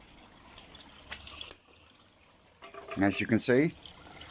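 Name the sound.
shower running water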